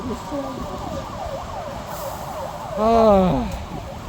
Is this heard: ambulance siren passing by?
yes